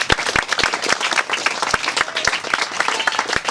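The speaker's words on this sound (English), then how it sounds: "Let's give them a round of applause." Audience applause at a Boys & Girls Club ribbon cutting ceremony, a steady dense clapping from a nearby crowd with a few sharp louder claps standing out.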